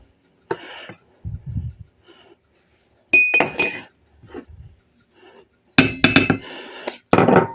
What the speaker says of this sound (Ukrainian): І все це добре перемішуємо.